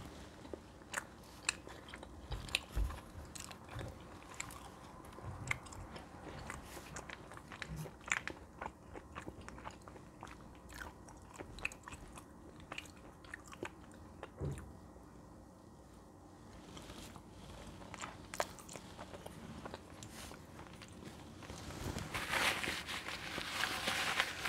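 Curry chicken roti eaten close to the ear, soft wet chewing and occasional crunchy bites in a quiet, uneven rhythm, with a breathy rustle near the end.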